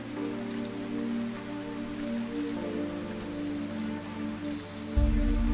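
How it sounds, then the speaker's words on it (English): A steady downpour of rain in the video game Fantasian Neo Dimension, a dense continuous hiss of drops over a low droning tone, with a thump near the end. "Vam and Taros followed Yim as she walked through the downpour."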